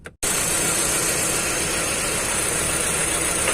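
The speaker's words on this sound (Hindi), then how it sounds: "तो हमने गाड़ी स्टार्ट किया और इसमें बहुत ज़्यादा मिसिंग है, कोई तो भी एक सिलेंडर चल रहा नहीं इसका।" A Hyundai i20 petrol engine idles with a cylinder misfire after a brief start transient, holding a loud, steady, rough rumble with uneven vibration throughout.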